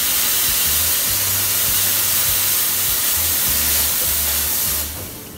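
Espresso machine steam wand test-purged on a café bar, a steady loud broadband hiss running continuously and close, with low mechanical hum beneath, tapering off at the very end.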